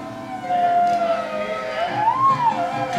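A theremin plays a single wavering, gliding tone that slides up and down in pitch, close and fairly loud over a low background hum.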